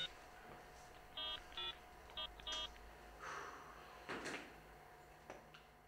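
A mobile phone being dialed gives a quick run of short electronic keypad tones in small clusters, faint against quiet room noise, followed by a few soft handling knocks.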